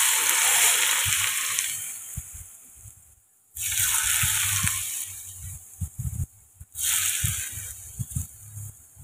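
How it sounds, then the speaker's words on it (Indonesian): Heated cooking oil, about 100–150 ml, poured slowly over raw spices for sambal matah, crackling and sizzling loudly in bursts that fade and flare again, with brief quiet gaps between pours. "ini disiram dengan minyak goreng kurang lebih 100-150 ml yang udah dipanaskan"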